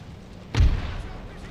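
A single deep boom of artillery fire in a Napoleonic-era battle in the strategy game Empire: Total War, landing loud and close after a brief quiet, its low rumble trailing off beneath steady background noise.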